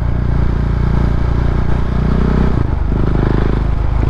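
Husqvarna Vitpilen 701 motorcycle dropping from fourth to third, a loud close engine note that shifts pitch at the gear change with a brief dip, then carries on rumbling under steady road and wind noise.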